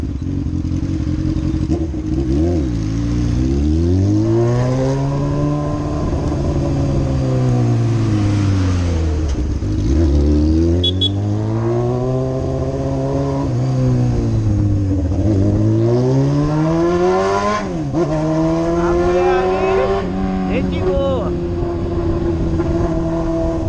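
A Honda CBR600F motorcycle with a straight-through open exhaust pipe is revved hard over and over. The engine note climbs and falls in long sweeping pulls, loud and close, and no one speaks.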